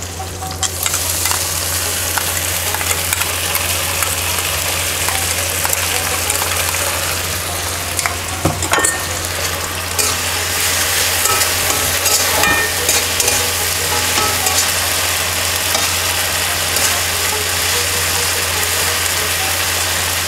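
Ground spice paste with chopped tomato frying and being stirred in oil for a Bengali chicken and potato curry, giving a loud, continuous close sizzle with steady scraping and no talking.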